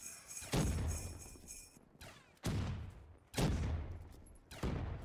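Explosive gun firing in Black Ops 3 Zombies on a Christmas-themed Highrise map, loud blasts repeating roughly every second with booming low rumble and decaying tails, a high ringing tone fading behind the first shot.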